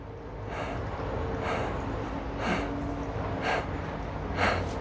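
Close, deliberate breathing in a calm demonstration, a run of audible breaths and gasp-like inhales separated by short pauses, repeating roughly every second with no talk over it.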